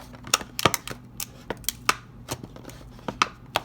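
Sharp scissors snipping through the plastic packaging of a 2021 Dino Escape Stomp 'N Escape Tyrannosaurus Rex toy, with a string of close, crisp cuts and clicks at an irregular pace.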